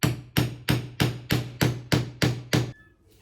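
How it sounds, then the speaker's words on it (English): Nine evenly spaced, sharp hammer strikes ring out close and loud as a hole is punched for a handmade journal cover, each blow decaying briefly before the next, then quiet. "What are you hammering? A hole Why? for my journal."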